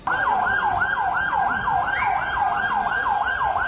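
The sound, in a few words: ambulance siren at Istanbul blast site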